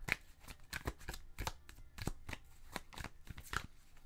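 A deck of tarot cards is shuffled close up, giving quick repeated riffling snaps in an uneven rhythm with no voice.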